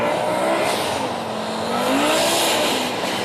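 An Audi Sport Quattro rally car engine roars at full throttle on an ice track, a loud sustained revving drone with shifting pitch and no speech.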